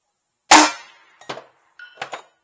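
A single loud gunshot from a Taurus firing a 200 grain ribbed steel-tip bullet cracks and rings out briefly. Fainter metallic clinks and a ding follow, likely a distant steel target being struck.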